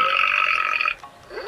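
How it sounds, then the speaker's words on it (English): A Furby Connect electronic toy lets out a loud, close burp lasting about a second, followed by a brief faint electronic chirp. "He's already burping."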